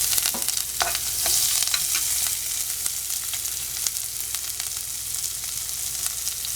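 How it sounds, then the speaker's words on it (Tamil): Chopped onions sauté in hot oil in a pan for butter beans poriyal, giving a steady, close crackling sizzle with a few scraping stirs and no talk. "வெங்காயம் நம்ம வதங்கட்டும்."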